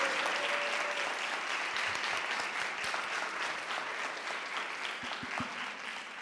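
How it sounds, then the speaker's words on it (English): A townhall audience applauds its speakers with sustained, loud clapping that slowly tapers off over about six seconds. "Can we give a round of applause for all of our speakers tonight?"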